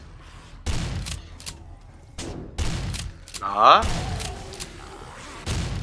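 Gunfire in the video game 7 Days to Die: several loud single shots at irregular intervals, someone speaking between them.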